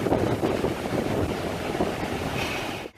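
A waterfall pouring with great force, a loud, steady broadband roar of rushing water close by, dense and continuous with wind buffeting the microphone, cutting off abruptly at the end.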